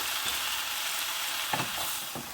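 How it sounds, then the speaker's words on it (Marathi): Tomatoes and salt get stirred in a hot pan for a prawn biryani base: a soft continuous sizzle with a few brief scraping stirs near the end. "चवीनुसार मीठ आणि हे मिक्स करून घेऊया।"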